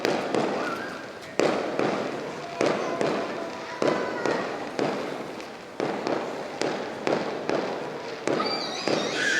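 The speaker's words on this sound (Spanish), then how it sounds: "Están bien bonitos los fuegos artificiales" Fireworks burst over Vallarta in a rapid, steady series of sharp booms, each followed by a decaying crackle, loud and continuous, with faint voices beneath.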